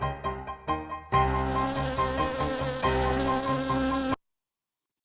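A stock soundtrack music piece, used as suspenseful film score, plays loud and continuous with sustained tones and steady rhythm for about three seconds after a brief choppy start, then cuts off abruptly into silence.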